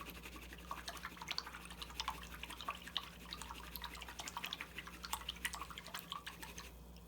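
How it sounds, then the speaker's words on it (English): A paintbrush rinsed in water during an acrylic painting session, faint repeated small drips and light splashing taps scattered irregularly over a quiet background hum. "wash your brush out"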